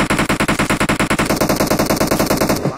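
Sustained automatic rifle fire in PUBG Mobile rattles out in a fast, even burst of dozens of loud, close shots, lasting nearly three seconds before cutting off.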